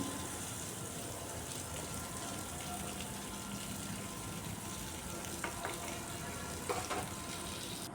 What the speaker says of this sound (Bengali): এগুলোকেও একটু নাড়াচাড়া করে হালকাভাবে ভেজে নিচ্ছি।